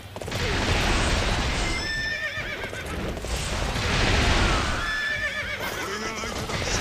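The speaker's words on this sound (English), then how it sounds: "Why is my horse going mad?" Horse neighing and whinnying with galloping hoofbeats in the video game Dynasty Warriors 8 Empires, two loud whinnies over steady battle noise, with a voice talking underneath.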